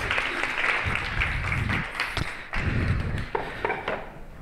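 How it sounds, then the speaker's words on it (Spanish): Applause from an audience at an expert forum session on soundpainting, uneven clapping with distinct individual claps and swells, fairly close and lively, with some voices mixed in. "Daros un aplauso, muy bien."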